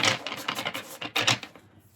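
A deck of Nightmare Before Christmas tarot cards being shuffled by hand, giving a run of quick papery riffles and flutters in several close, dense bursts before trailing off into near silence.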